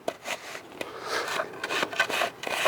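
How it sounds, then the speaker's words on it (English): A board screeds sand across the top of a 1-inch pipe for a DIY grill paver pad, giving a soft gritty scraping in several quick strokes, close and moderately quiet. "all you're going to do is screed off the top of that 1-inch pipe"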